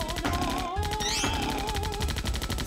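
A heavy machine gun in Zombie Panic in Wonderland fires a fast, unbroken stream of rapid shots, loud and close, over game music with a sustained melodic tone.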